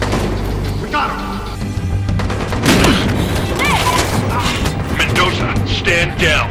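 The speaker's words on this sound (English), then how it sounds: "Shots fired! Shots fired!" Gunfire in a Battlefield Hardline shootout: dense, loud bursts of shots and booming impacts run continuously under shouted voices and in-game chaos.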